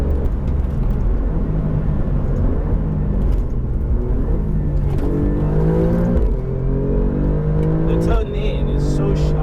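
An Alfa Romeo Giulia GTAm saloon car lapping a track flat out, its engine roaring continuously near and loud, climbing and dropping in pitch as it accelerates, shifts and brakes through corners.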